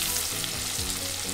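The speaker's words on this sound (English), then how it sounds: "So let it saute for a minute until you get nice aroma of the ginger garlic." Ginger and garlic sauté in a pan for a tadka for sarson ka saag, producing a close, steady sizzle and bubbling with a couple of low utensil thuds and no talking.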